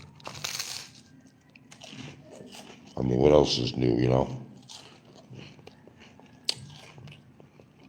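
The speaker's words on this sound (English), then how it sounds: "you're gonna hear a little crunching" Someone crunches on breakfast food close to the mic, with crisp bites and chewing scattered across the moment while someone talks over it.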